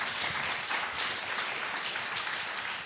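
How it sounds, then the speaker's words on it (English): Audience applauding between rounds of a district attorney candidates' debate, a short dense burst of clapping from a crowded room that holds steady for a few seconds. "Round of applause real quick."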